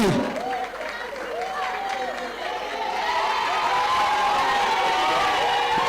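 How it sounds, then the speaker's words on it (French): A large audience at an awards ceremony bursts into sustained applause and cheering, with clapping swelling and holding steady while a voice rings out over the crowd. "Un tonnerre d'applaudissements pour l'artiste qui va s'approcher et récupérer son prix"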